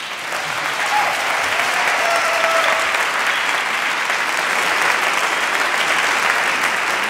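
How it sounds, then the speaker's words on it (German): Sustained applause from a conference audience for a stage interview, thick and steady clapping that swells in at the start and stays loud throughout, with faint crowd murmur beneath. "Applaus"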